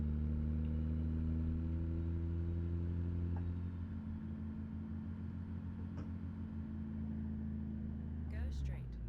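An International HX truck drives in American Truck Simulator, a deep, constant engine rumble that holds steady for several seconds with faint rattles and a brief sound near the end.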